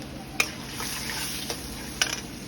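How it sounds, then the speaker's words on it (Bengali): Chili, cumin seeds, bay leaf and turmeric sputter in hot oil for a chana dal masala. A steady close sizzle is broken by three or four sharp spoon clinks against the pan. "তেলের উপরে লঙ্কা লঙ্কা প্লাস জিরে প্লাস তেজপাতা এইবার যাবে হলুদ"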